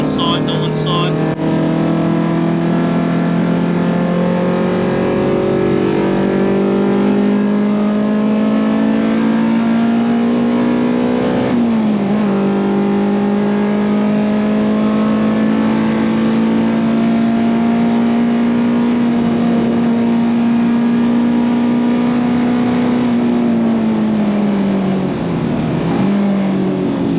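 Engine of the 1989 DTM champion BMW M3 E30 race car heard from inside, a loud sustained high-revving drone climbing through the gears with brief dips at shifts, a voice talking over it.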